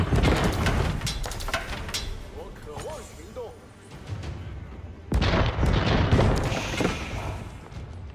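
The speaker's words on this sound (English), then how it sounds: "Bombards firing against the fort of the Huntress" In Age of Empires 4, bombards pound a fort with deep booming shots and crashing impacts, dense at first, easing in the middle, then resuming loudly, under a commentator's steady talk.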